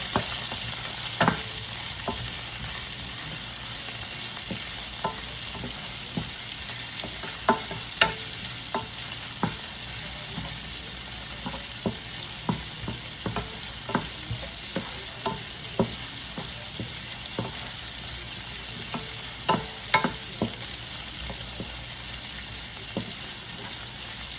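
Garlic and onion sauté in a pan for chicken adobo, a constant close sizzle punctuated by scattered sharp clicks and scrapes of stirring throughout, with no one speaking.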